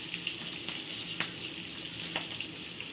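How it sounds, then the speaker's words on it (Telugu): Green and dried red chillies frying in oil in a pan with a faint, even sizzle and small crackling pops scattered throughout, with no talking. "పచ్చిమిరపకాయలు ఎండుమిరపకాయలు వేసుకొని కొంచెం సేపు ఫ్రై"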